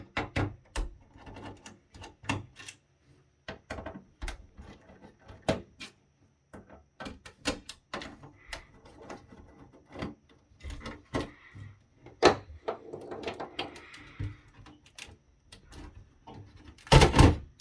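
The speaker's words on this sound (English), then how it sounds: "Pull the CPU module off here." A CPU module being pulled off a classroom capture device during a teardown makes a run of sharp, close plastic and metal clicks, taps and knocks in an irregular rhythm, ending with a louder rattling handling sound.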